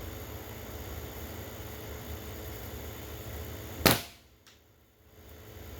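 A .22 Beeman air rifle fires a single pellet during scope zeroing, one sharp loud crack near the end after quiet steady background hiss, followed by a fading tail and a faint second click.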